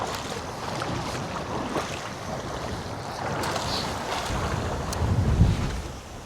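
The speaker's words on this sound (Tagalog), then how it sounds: "Pero malakas yung hangin." Strong wind at sea during lure fishing for grouper, a continuous roaring rush of wind buffeting the microphone with water noise and a louder gust near the end.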